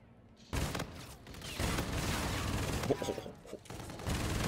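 Pistol gunfire in the video game Infinite Warfare, sharp shots and bursts amid battle noise and mechanical clatter, loud and close, with a voice briefly under the shooting.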